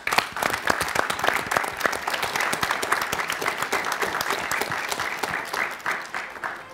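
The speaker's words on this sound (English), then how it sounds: "A big applause, please." A studio audience breaks into applause, a dense run of many hands clapping at once that lasts several seconds before gradually thinning out.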